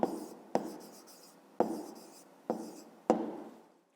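Pen or pencil writing a numeric answer by hand on paper for a fifth-grade maths exercise, close and fairly quiet, with five distinct stroke bursts that each start sharply and trail off, no voices.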